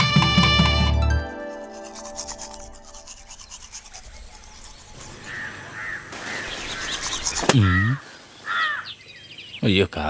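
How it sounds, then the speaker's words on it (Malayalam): Crows caw several times in the second half, a few harsh calls with a sharp loud one near the end, following a stretch of quiet ambience and earlier voices. "അയ്യോ കാക്ക."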